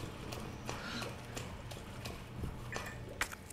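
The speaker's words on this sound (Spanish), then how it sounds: "No, le oigo, le oigo. Vienen las pisadas." Footsteps approach in the dark in the Resident Evil 2 Remake video game, a steady run of evenly spaced steps over a low rumbling game ambience, with no talk.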